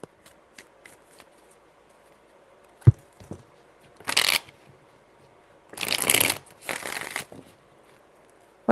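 A deck of tarot cards is shuffled three times in quick riffling bursts, each a loud rustling flutter, separated by quiet pauses and a few soft taps of handling.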